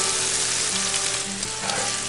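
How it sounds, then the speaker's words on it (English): Meat browning in a new Blacklock cast iron skillet, a loud, dense, continuous sizzle heard up close with no talk over it. "we're just going to brown this off"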